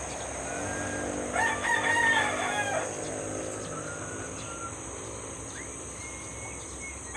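A rooster crows once in the distance in the early morning over a steady hum of insects and crickets, with faint clucking afterward.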